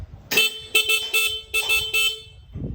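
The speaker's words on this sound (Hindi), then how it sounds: "और ये कोड हॉर्न ये है।" A car horn sounds as a coded signal, beeping in a quick series of loud, close toots with brief gaps between them and then falling silent.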